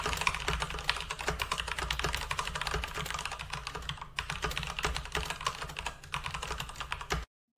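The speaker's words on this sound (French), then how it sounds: "je vous fais une petite démonstration du bruit de ces interrupteurs" Corsair mechanical keyboard switches being typed on rapidly, a dense stream of sharp close clacks in a fast continuous rhythm with a brief pause before ending abruptly.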